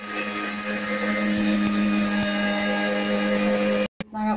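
A mixer grinder whirs steadily as it grinds whole cumin, pepper, cardamom and cinnamon, a loud continuous motor whine with no talk, cutting off abruptly near the end.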